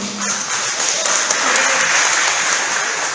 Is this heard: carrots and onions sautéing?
no